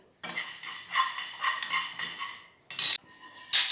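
Well-dried curry leaves are roasted and stirred in a pan, making a dry, crisp, continuous rustling crackle, followed by a couple of sharp metallic clinks of the spoon against the pan.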